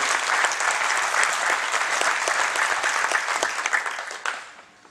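Dense, steady applause from a congress audience at a political gathering, loud and continuous, tapering off near the end.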